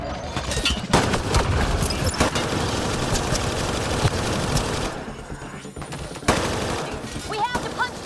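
Dense gunfire in the video game Mass Effect: Andromeda: rapid bursts and booming shots overlap in a loud, chaotic firefight, with voices shouting under the fire.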